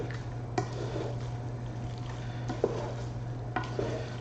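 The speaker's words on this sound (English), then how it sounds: "you just kind of want to keep stirring until like you get most of the heat out of it" Carbonara pasta is stirred through an egg and cheese sauce in a pan, giving a continuous soft wet churning with a few sharper scrapes and clicks against the pan, over a low steady hum.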